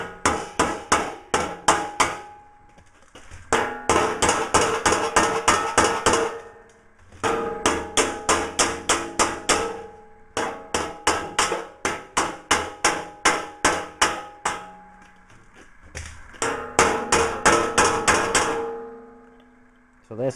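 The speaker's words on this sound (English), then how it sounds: "tapping around until you get it fitting perfect on your hammer form." A hammer taps sheet metal over a hammer form while a Willys Jeep front panel is shaped. Close, crisp strikes come in rhythmic bursts of about ten blows each, separated by brief pauses.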